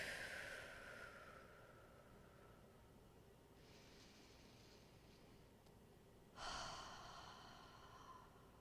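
A group breathes slowly and audibly together, a long exhale fading out, a soft inhale in the middle, then another loud breath in the quiet room.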